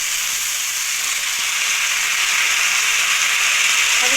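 Soaked sago goes into a vegetable curry cooking in a pan. A loud, steady sizzling hiss rises slightly as it goes on, with a faint clatter near the end and no talking.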